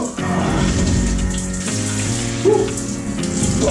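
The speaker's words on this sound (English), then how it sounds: "get in, get that shower, get your head under" Cold shower water running steadily, a continuous rushing spray close by with a brief louder splash midway.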